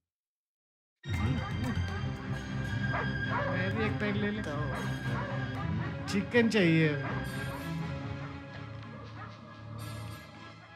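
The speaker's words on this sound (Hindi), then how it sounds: "सर, वहाँ कुत्ता क्यों भौंक रहा है?" A dog barks and yelps repeatedly in the background while people talk over it nearby.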